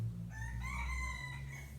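A rooster crows in one long drawn-out call, fairly close and clear over a steady low background hum, with no talk during the crow.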